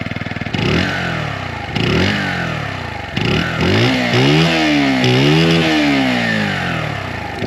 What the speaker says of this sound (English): The bike does have a pretty nice subdued tone for a 125cc.